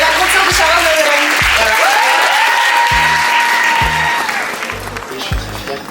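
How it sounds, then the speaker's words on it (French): A conference audience applauds warmly and steadily for the full stretch, the dense clapping fading slightly toward the end, with faint music and a sustained tone running underneath. "On peut accueillir Déborah et l'applaudir chaleureusement"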